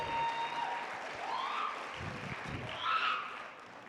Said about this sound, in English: Let's give all 5 of those people and our first kickoff a big round of applause.